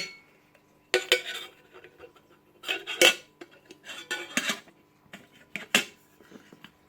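Camping cookware being handled and sorted: a wooden spoon, a light pot, a pan and a kettle from a three-in-one gas camping set, giving irregular close clinks, knocks and clatters in scattered bursts with quiet gaps.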